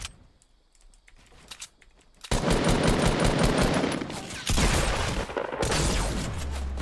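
Rapid automatic gunfire from the video game Fortnite, sparse shots at first, then sustained dense bursts that stay loud and close for several seconds.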